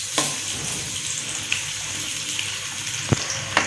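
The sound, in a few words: chopped onions frying in hot ghee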